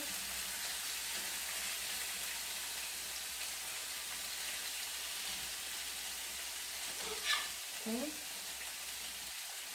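Stuffed tofu fries in a pan with a soft, steady sizzling hiss throughout, broken near the end by a couple of brief scraping knocks.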